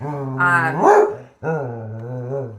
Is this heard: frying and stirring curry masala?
no